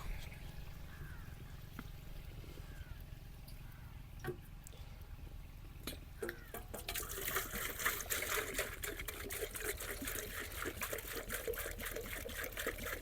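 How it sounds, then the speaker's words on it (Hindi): Water poured steadily into a large cooking pot for aloo matar pulao, fourteen litres going in for ten kilos of rice; a faint trickle swells into a louder continuous pour over a low background hum, with no talk. "अब इस टाइम पर शामिल करते हैं जी पानी।"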